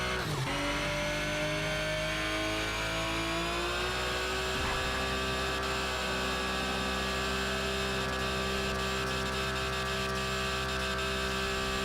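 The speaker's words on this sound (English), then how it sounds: "This one also sounds like the engine is suffering a lot" A loud, sustained racing engine in the video game Need for Speed Shift 2: Unleashed drones and whines, its pitch rising sharply at first and then holding at a strained high rev, with no voices.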